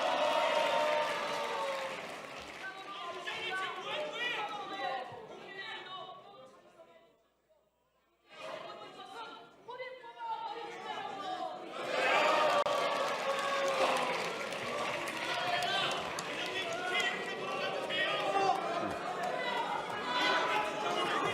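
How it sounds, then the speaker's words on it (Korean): Legislators in the National Assembly plenary hall in South Korea shout and clap in a noisy mixed din with chatter. The noise breaks off briefly midway, then swells again, louder and sustained. "소리를 친다거나 박수를 친다거나 하는 것은 안 하는 게 본회의장 예의입니다."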